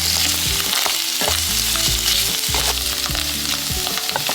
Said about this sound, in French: à présent, je viens ajouter ma viande. Je viens mélanger le tout.